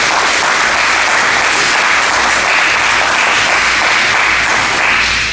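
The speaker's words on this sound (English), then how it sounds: "Please give a round of applause and welcome Andrea White to the microphone." A community audience claps loudly and continuously to welcome a food bank director to the microphone, a thick even wash of hands with no voices.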